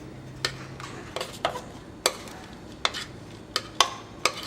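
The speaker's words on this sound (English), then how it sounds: "And you want to take and just stir that around just a bit" Cranberries being stirred into stuffing in a pan, a series of sharp, spaced-out clinks and scrapes of a utensil against the pan over a quiet background.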